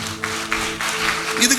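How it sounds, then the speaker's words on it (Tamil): A church congregation at a Tamil promise service claps together in a steady, dense burst of applause that fills the short moment, with a voice faintly present underneath. "கைத்தட்டுங்கப்பா, நல்ல ஜோர கைத்தட்டு."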